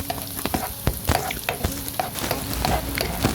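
Onion and garlic sauté in a hot pan, a steady close sizzle of frying punctuated by repeated clicks and scrapes of a spoon stirring, with no talking.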